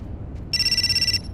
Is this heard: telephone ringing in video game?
yes